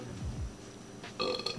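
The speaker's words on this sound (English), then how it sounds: "The burping? Yeah." A person lets out a burp in a kitchen during late-night sourdough bread meal prep, a low guttural belch followed by a second one, then a brief higher clatter near the end.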